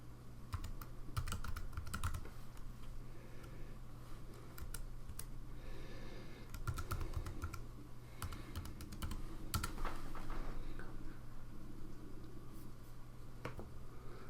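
Steady clicking of keys on a computer keyboard as login details are typed, with irregular bursts of close keystrokes and short pauses over a constant low room hum.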